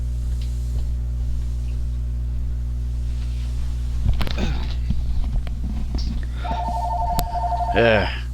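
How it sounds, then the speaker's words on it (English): A telephone rings with a repeated electronic trill over a steady low engine rumble from a racing game, with some brief talk heard. "Hang on, Chad. I got a phone call."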